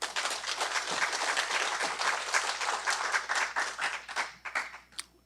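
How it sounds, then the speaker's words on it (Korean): Audience at a provincial government forum applauding to welcome the governor, dense sustained clapping from many hands throughout, tapering off in the final second. "박수로 환영해 주십시오."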